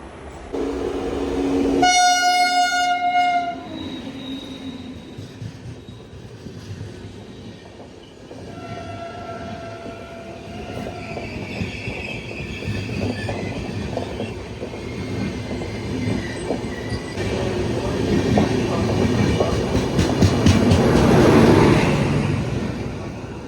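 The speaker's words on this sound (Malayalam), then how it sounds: "ഇതൊരു സാധാ എക്സ്പ്രസ് ട്രെയിനാണ്" An ordinary express train passes on an adjoining double track, heard from a halted train: a loud horn blast near the start, then rolling wheel clatter and rumble that swells to a close, heavy roar toward the end.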